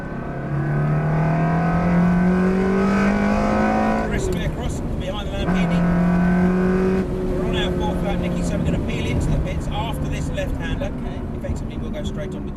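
Ferrari sports car accelerating out of a corner on a driving course, engine note climbing in pitch with gear changes, loud and close, with a voice talking over it.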